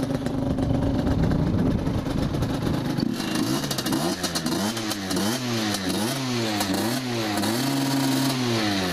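A restored Derbi SM motorcycle engine fires up cold without the choke and runs close by, a loud rattling two-stroke idle that soon swings into repeated rising and falling revs, with no talk over it.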